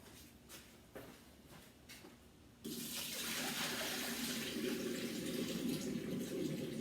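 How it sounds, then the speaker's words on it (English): Water from cooking chicken is poured into a kitchen sink, a few faint clinks and taps first, then a sudden steady splashing gush that carries on loudly to the end. "I'm going to take this water and throw it in the sink."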